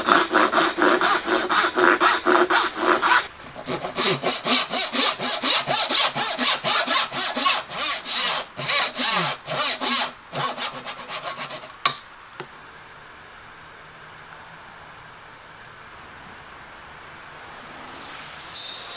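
Handsaw cutting a wood piece for a convertible router and outfeed table, steady rapid back-and-forth strokes for about twelve seconds, loud and close, then stopping into quiet shop room tone.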